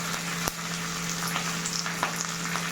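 Dried red chillies and curry leaves fry in a pan for a mango curd pachadi, giving a soft, steady sizzle with scattered crackles and one sharp tap early on.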